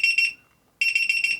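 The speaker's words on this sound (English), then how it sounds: "at 4 o'clock, we should see the Pixoo set an alarm off" A Divoom Pixoo 64 pixel display sounds its alarm: a high electronic beeping in quick pairs, a short pause, then the beeps resume in a steady repeating pattern, loud and close with nothing else heard.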